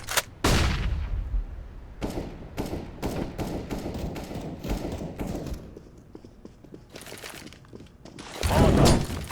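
Flashbang grenades going off in CS:GO, a sharp loud burst followed by a long ringing decay, then a string of gunfire cracks and another heavy blast near the end.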